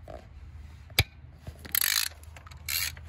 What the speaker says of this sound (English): So first thing I'm doing is I'm gonna loosen all these 10 millimeter bolts.